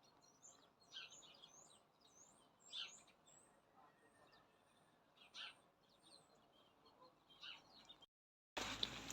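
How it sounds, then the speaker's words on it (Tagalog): Many small birds chirp and sing in bursts outdoors among grass in the cold, the calls fairly distant and faint over quiet background, ending with a sudden rush of wind or handling noise. "Daming nahuning ibon,"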